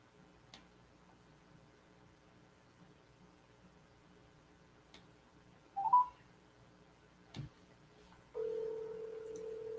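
A telephone dials a call back: a few faint keypad tones, then a steady ringing tone starts near the end, quiet and close, with no talking.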